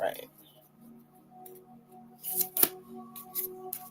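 Quiet handling of oracle cards runs beneath soft talking, building into a brief cluster of crisp shuffling snaps past the midpoint and a few lighter flicks after, close but faint overall.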